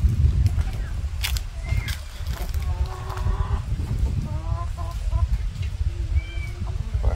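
Chickens clucking on a small farm in Brazil: short, scattered clucks and calls over a steady low rumble of outdoor background noise, fairly close and intermittent.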